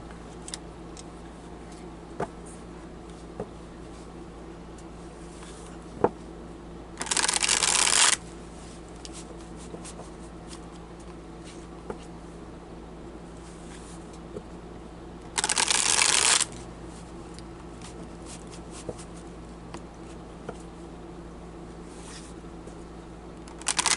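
A deck of cards shuffled twice in quick riffles, each burst about a second long, loud and close, separated by a long stretch of quiet room tone with small faint ticks.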